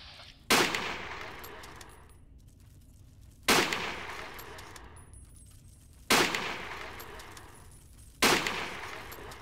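Four heavy gunshots in Fallout 3, a modded PC version, each a sharp loud crack with a long decaying tail, spaced about two to three seconds apart with no other sound between.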